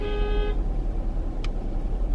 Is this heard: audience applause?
no